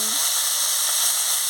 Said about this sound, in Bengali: এবার তেল গরম হয়ে গেছে, আনাজগুলো দিয়ে দিচ্ছি।